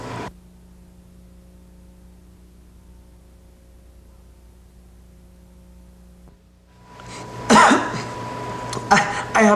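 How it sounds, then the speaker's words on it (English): A few sharp coughs burst out near the end after a long stretch of quiet electrical hum. "I have a very bad cough."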